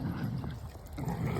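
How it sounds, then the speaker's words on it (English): A dog near a reservoir on a morning walk yelps and whimpers in short, fairly loud bursts over a steady low rumble of outdoor noise. "Shut up, dog."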